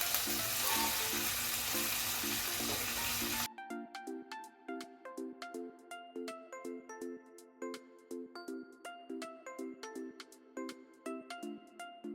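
Loud, crackling sizzle of a spice tempering for matar dhokla frying in hot oil for a few seconds, then it cuts off as the gas is turned off, leaving a light plucked tune.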